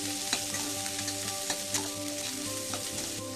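Carrot pieces fry with vermicelli in a pan, giving a steady close sizzle with occasional light clicks from a spoon, alone without voices.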